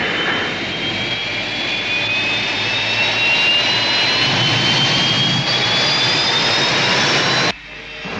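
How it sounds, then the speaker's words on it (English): Rescue ship engines from the science-fiction series Space 1999: a loud, steady jet-like roar with rising whining tones that holds for about seven seconds and then cuts off abruptly, leaving a faint residue, with no talk. "Rescue ship moving."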